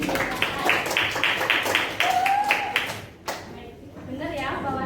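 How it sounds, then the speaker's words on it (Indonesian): A class of students claps hands in a classroom, a quick burst of rhythmic clapping that fades as a voice speaks over it. "Tepuk tangan buat."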